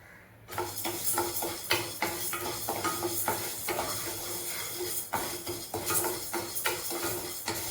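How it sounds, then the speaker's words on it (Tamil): Horse gram being dry-roasted and stirred slowly in a wide kadai, with dry grains rattling and scraping against the metal in a steady run of close, clattering strokes, no voices. "பெரிய அகலமான கடாயை வச்சாச்சு இதில் கொள்ளை போட்டோம் ஸ்லோவிலே தான் கொஞ்சம் வறுக்கணும்"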